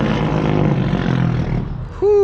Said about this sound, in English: Whoo, boy, that engine brake.